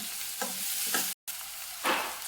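Chopped onion with half a spoon of turmeric sizzles in a hot pan while being stirred for an Alibag-style dried-shrimp dish. A steady fry hiss is broken by scraping stir strokes and one brief dropout, close by.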